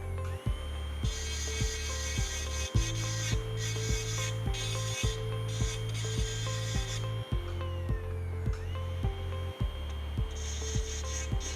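High-speed dental drill bur shaping ceramic enamel, a continuous whine with repeated short pulses as the bur touches and lifts, steady and close, with no talking.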